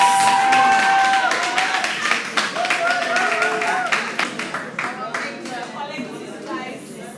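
Clapping breaks out for Mr. Colin Spence at a teachers association 60th anniversary function, a lively burst of many hands with sharp individual claps. A voice and tones ride over the opening, and the clapping thins and fades toward the end.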